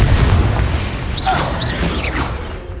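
Fiery Confringo spell blast in the Hogwarts Legacy video game, a loud booming burst with whooshing tails and brief magical swishes over dense game noise.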